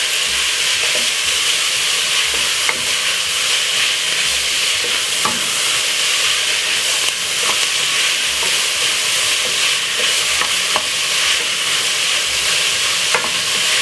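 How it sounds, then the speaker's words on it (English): A mixed vegetable stir fry stirred in a hot pan, with a constant loud sizzle and repeated spatula scrapes and taps against the pan, no talking. "Give it a stir."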